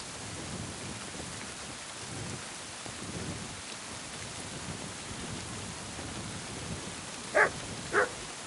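A dog in the game Kingdom Come: Deliverance 2 gives two short barks near the end, heard through a steady wash of rain and low thunder rumble.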